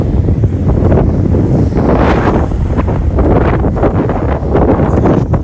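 Strong wind buffets an outdoor microphone in open sunlight, a loud continuous rumbling roar with gusty swells throughout and no voices.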